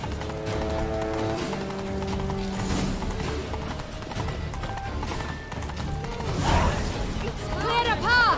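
A horse's hooves clop at a steady riding pace in The Witcher 3, mixed with tack creaks, a neigh and voices talking over the game's background music.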